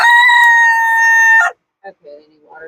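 Rooster crowing loudly and close for about a second and a half, a sustained harmonic call, followed by softer chicken clucks on a farm at feeding time.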